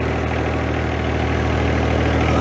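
A John Deere 1025R compact tractor's engine runs steadily up close, a continuous low rumble with constant vibration and no speech.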